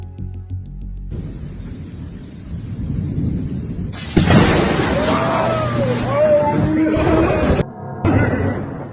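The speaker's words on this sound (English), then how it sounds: "there's a thunderstorm approaching, and at a certain moment, a lightning strikes nearby" Thunder from a nearby lightning strike in an approaching thunderstorm breaks as a loud, sudden crack and then rolls on in a long roar over steady rain, close and heavy, and cuts off abruptly near the end.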